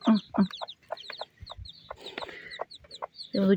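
Newborn black, curly-feathered chicks kept warm under plastic film cheep in rapid high-pitched peeps, close and lively, with lower clucking bursts at the start and end.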